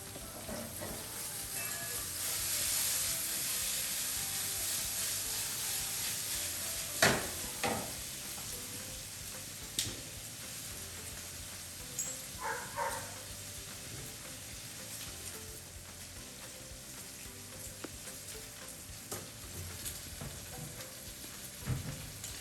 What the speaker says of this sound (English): You can hear the bacon behind me kind of crisping up.